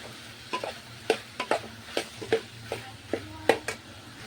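A spoon scrapes and stirs an okra mixture frying in a pan over a gas flame, about ten distinct strokes in an uneven rhythm above a low, continuous sizzle.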